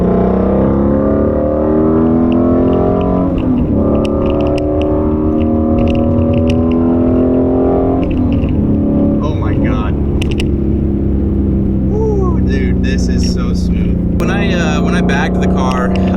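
A bagged Ford Mustang GT350R idles with a deep, steady rumble, then revs up in rising and falling sweeps, loud and close, with a voice speaking over it.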